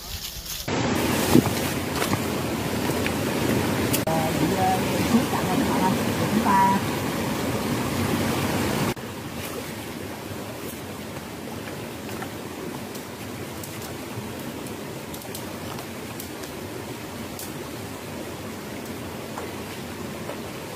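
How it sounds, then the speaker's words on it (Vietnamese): Water pours steadily over rocks in a stone stream waterfall, making a constant broadband rush throughout. The rush is slightly louder at first and then settles to an even, continuous flow. "Gần mà suối thác đá này các bạn, nó đổ xuống dưới đây nhá"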